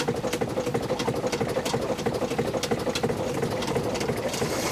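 A classic steamboat's steam engine chugs under way in a fast, even rhythm, close and steady, with regular mechanical ticking like a sewing machine over a low hum.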